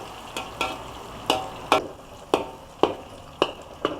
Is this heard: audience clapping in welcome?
no